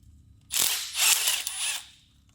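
A ratchet loosens the 10 mm transmission pan bolts on a VW Aisin 09G automatic, making a close, rasping clicking that comes in two or three quick bursts over about two seconds.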